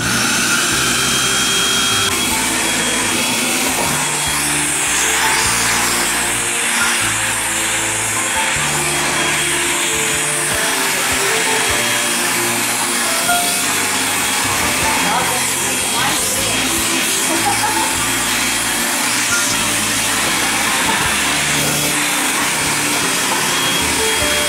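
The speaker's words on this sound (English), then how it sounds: "the vacuum feature is used in speed 1" A loud, steady motor whine with a rushing airflow roar runs continuously throughout as an XPOWER B-2 Pro pet dryer runs in vacuum mode at speed 1, with faint talk beneath it.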